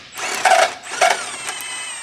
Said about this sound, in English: Using the same tool, remove shock to lower control arm mounting bolt.